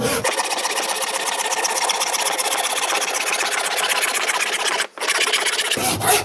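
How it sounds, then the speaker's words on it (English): A handsaw cuts through 3/8-inch beadboard in fast, steady rasping strokes, loud and close, running continuously with a brief pause near the end before a final few strokes. "I'm going to cut through this bead board as neatly as I can using a handsaw"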